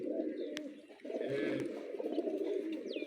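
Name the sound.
pigeons cooing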